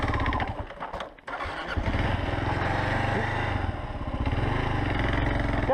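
Motorcycle engine cranked on its starter out on an adventure ride among Ural, KLR650 and KTM 950/990 bikes, with a brief churn and a catch near one second, then a steady loud idling rumble, with voices faintly beneath.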